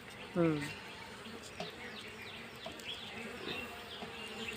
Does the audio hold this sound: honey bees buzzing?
yes